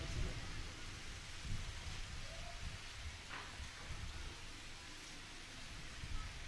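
Steady rain falls with gusting wind at an outdoor religious gathering, a continuous broadband wash with low rumbling gusts and occasional louder surges, no talking heard.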